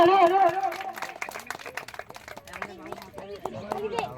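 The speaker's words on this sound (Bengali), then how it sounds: "বাচ্চারা হাততালি করে বলো, হাততালি।" Children clapping their hands at a 15 August gathering, with scattered sharp claps mixed under loud, close talking from several voices.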